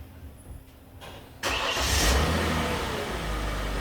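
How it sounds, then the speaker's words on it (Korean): At a wheel alignment shop, a car engine cranks and catches about midway through after quiet shop ambience, then settles into a loud, steady idle nearby. "시동 걸었어요. 시동 걸어도 돼."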